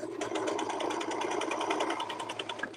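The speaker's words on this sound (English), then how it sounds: "So see how I'm sewing this?" Four-thread serger sewing fabric, a continuous close, loud whirring run with a rapid mechanical stitching pulse that stops near the end.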